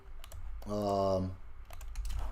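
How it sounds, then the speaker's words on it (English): Typing on a computer keyboard, a soft run of clicking keys that sits faint beneath a brief spoken voice and then continues alone. "I'm just typing in the Discord server over there"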